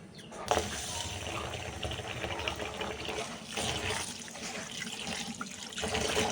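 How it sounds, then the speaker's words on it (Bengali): Rice is washed in water, with continuous sloshing, swishing and trickling in a container, a sharp knock near the start. "এখন আমি চালটা ধুয়ে নেব"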